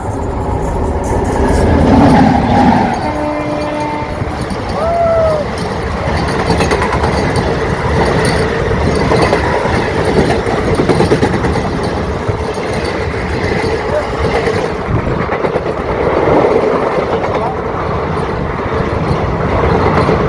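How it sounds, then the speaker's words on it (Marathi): Konkan Railway train passing close by, a loud sustained rumble and clatter of wagons rolling on the tracks for about twenty seconds, with brief voices underneath. "बघू शकता ही गेली आहे ट्रेन माझ्या मागून."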